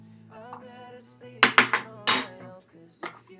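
A spoon scoops and clinks against a container while measuring soy milk into a smoothie, giving a few sharp close metallic taps in quick succession, with quiet talk in the background.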